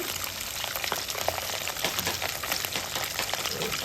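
Ingredients for a Telangana-style fish pickle sizzle in hot oil, a dense, steady crackling hiss that runs throughout, close and moderately loud.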